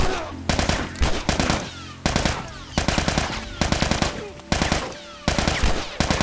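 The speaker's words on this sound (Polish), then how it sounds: "to dziad strzela" An enemy fires at the player in the video game The Last of Us, in loud bursts of rapid automatic gunfire that come again and again, about once a second, with short gaps between the volleys.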